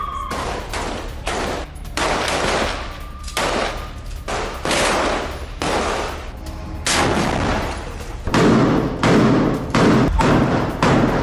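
Bursts of gunfire from an Israeli army strike on Hamas positions in Gaza, sharp repeated shots in clusters with a steady rhythm, loud and close, with no voices.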